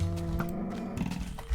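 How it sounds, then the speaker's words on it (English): Cows mooing in the Minecraft video game, a low drawn-out bovine call running steadily through the short clip with no talk. "It's cows, it's chicken"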